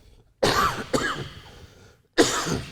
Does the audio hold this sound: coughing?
yes